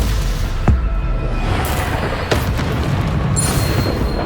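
Bombarda blasting spell explosions in Hogwarts Legacy during combat: two sharp, separate booms, one early and one midway, each cracking over a constant loud rumble of battle noise.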